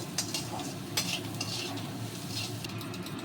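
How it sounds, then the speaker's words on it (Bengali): Leftover rice stir-fried in a pan with sauce and black pepper, a steady close sizzle broken by repeated scraping and clinking of a metal spatula against the pan, no voices. "এর সঙ্গে সুন্দর করে ভেজে নেব"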